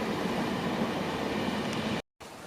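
Steady rumble of a passenger train running from Rome's Piramide station toward Bracciano, a continuous near interior rolling noise that cuts out briefly near the end, with no voices.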